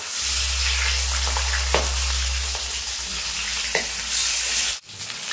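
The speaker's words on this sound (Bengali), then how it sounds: "এখন কড়াইতে তেল দিয়ে দেবো, সরষের তেল, মাছ ভাজার জন্য" Rohu fish pieces fry in mustard oil in a kadai with a loud, continuous close sizzle. Occasional scraping stirs cut through, and the sound drops out briefly near the end.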